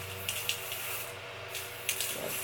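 Several short hissing bursts from a spray bottle onto a lace closure wig, close by, spaced irregularly over a steady low hum.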